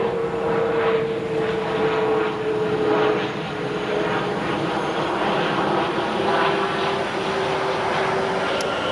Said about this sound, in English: planes are flying pretty low over here